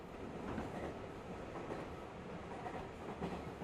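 A train in the Steins;Gate video game runs steadily with a continuous rumbling rattle and soft clickety-clack of wheels on rails, moderately loud and unbroken throughout, with no voices.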